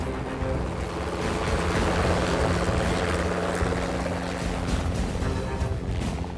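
Loud, steady rotor and engine roar of a helicopter, presented alongside the AgustaWestland AW101, a continuous dense wash with no talk.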